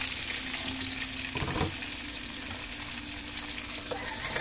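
Mussels frying in butter in a pan for a buttered seafood dish, a continuous close sizzle with a couple of brief stirring or clinking bumps, no voices.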